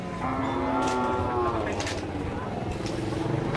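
Cattle moo in long, steady, loud calls that overlap one another over constant outdoor background noise, with a few faint voices underneath.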